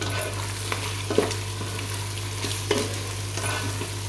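Tomato mixture for pasta being sautéed in a pan, a continuous close sizzle with a low steady hum underneath and a few spatula scrapes and taps, no voices.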